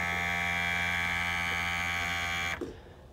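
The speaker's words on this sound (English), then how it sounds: "That's the 2-gallon Scott lithium battery operated sprayer." A 2-gallon Scott lithium battery-operated sprayer runs with a steady loud electric motor buzz, then cuts off abruptly near the end.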